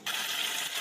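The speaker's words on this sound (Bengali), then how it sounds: "অল্প অল্প জল দিয়ে কিছুক্ষণ কষিয়ে নেব।" Water pours steadily into a pan of simmering egg and potato curry with yogurt and fried spices, a short soft rushing gush with no talk.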